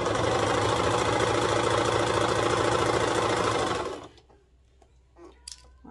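A sewing machine runs steadily, stitching the side seam of a slippery-fabric toddler reversible swimsuit, a loud continuous whir for about four seconds before stopping abruptly, followed by faint handling noises.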